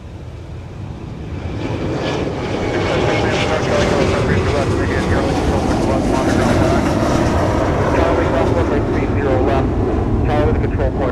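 A Boeing 717 airliner at MSP airport in winter, its jet engines a loud sustained roar that swells over the first seconds and holds steady, with wind buffeting the microphone.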